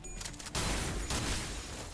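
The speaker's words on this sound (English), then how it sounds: "Shotgun." Shotgun fire in the video game Limbus Company, a loud burst of gunfire with a sharp onset about halfway in, followed by continuous dense blasts and rumble to the end.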